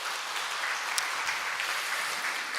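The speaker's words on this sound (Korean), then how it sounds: "우리 하나님께 영광의 박수 드리도록 합니다" A church congregation claps together during a Sunday worship service at year's end, producing a steady, dense wash of applause that holds evenly throughout.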